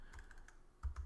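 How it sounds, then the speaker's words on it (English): Faint keystrokes on a computer keyboard, a few quiet clicks in a short uneven burst, close but soft, with no talking. "Boy, my typing skills suck today"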